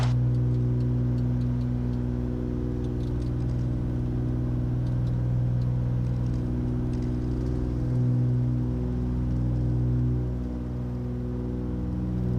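A light aircraft engine holds steady at full power during a max power climb, a loud continuous droning hum with a strong tonal rumble that stays close and even, and no voices.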